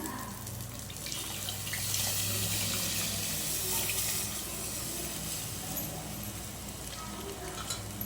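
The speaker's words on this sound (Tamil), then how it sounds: "இப்போ தேவையான அளவு தண்ணி சேர்த்துக்கலாம்." Water pours in a steady stream into a clay cooking pot, splashing for several seconds with a faint hollow ring underneath.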